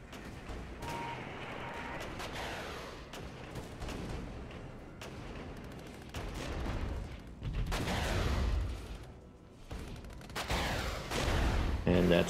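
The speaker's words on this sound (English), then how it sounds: "that's definitely artillery" Artillery fire in the Regiments war game, a dense, continuous barrage of booms and blasts that swells and recedes across the whole stretch, loud and layered with overlapping impacts, with occasional voices underneath.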